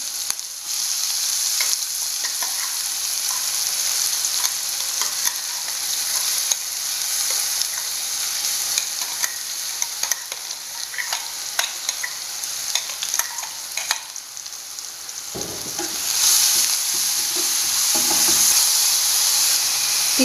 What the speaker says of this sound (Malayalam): മിക്സിയിൽ ക്രഷ് ചെയ്ത് വെച്ചേക്കണം ഉള്ളി, കാന്താരമുളക്, വെളുത്തുള്ളി ഇതെല്ലാം കൂടി ഇതിലേക്ക് ഇടുകയാണ്